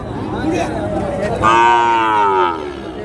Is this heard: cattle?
yes